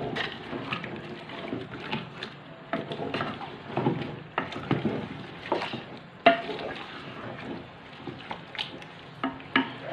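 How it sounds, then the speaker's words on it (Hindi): Biryani ingredients frying in a pan while being stirred, soft sizzling under irregular scraping and clinking of a spoon against the pan, moderately quiet and close. "इसको अच्छी तरह भून के हम पाँच से छः मिनट तक भूनेंगे"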